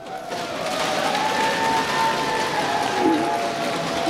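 Audience applause at a televised trot-style singing contest in Gangdong district, a steady wash of clapping and crowd noise filling the hall for the full few seconds.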